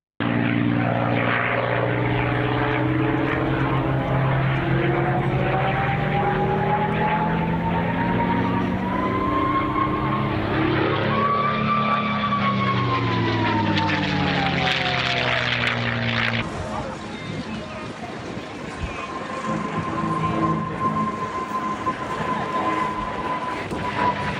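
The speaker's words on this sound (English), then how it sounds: "I'll put a little video clip up of the Mustang whine and probably the Comet whine if I can find any" A P-51 Mustang propeller aircraft engine roars and whines with a rising then falling pitch as the plane passes close and loud, then fades into a steadier distant drone.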